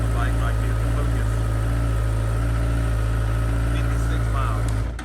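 A stock-exhaust 2021 Honda CBR1000RR superbike with 56 miles on it idles indoors, a loud, steady, close engine rumble that cuts off abruptly just before the end.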